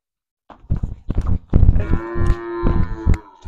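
Buffalo lowing close by at a village farm household in Punjab, a loud drawn-out moo with clear harmonic tone after a few short rustling and footstep-like knocks, no talk over it.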